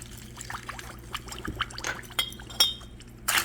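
Lemonade pours into a glass for a watermelon mocktail, a soft liquid trickle with a few light glass clinks, fairly quiet and close, with no voices.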